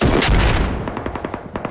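Burst of gunfire in Warface, a competitive team shooter match: a loud opening volley gives way to a rapid string of sharp, evenly spaced shots that trail off, with no voices.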